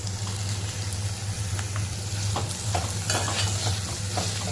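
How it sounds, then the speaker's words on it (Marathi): Sliced snake gourd is stirred and sautéed in a pan over sautéed onion, giving a continuous close sizzle and frying crackle with a spatula scraping and tapping throughout, and no talk. "व्यवस्थित परतून घेऊया"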